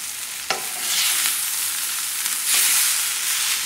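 Green beans and tomatoes fry over a high flame, giving a loud, continuous hiss of sizzling oil with a couple of brief stirring clatters.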